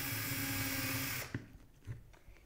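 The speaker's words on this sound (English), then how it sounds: "Drill a hole about a half an inch deep." A power drill with a 1/8-inch bit bores a half-inch-deep hole, a loud steady whine that cuts off abruptly after about a second, followed by a few faint knocks.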